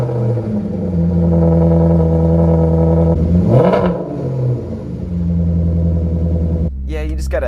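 A Maserati car engine revs up and settles back, a loud close rumble with a sharp rise mid-way, then a steady idle, ending with a quick high sweep of another revving burst.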